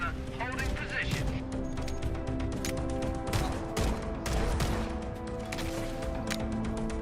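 Dense, continuous gunfire from stationary mounted guns in a Halo game battle, with rapid overlapping bursts and crashing impacts filling the scene, while background voices and steady game music run underneath.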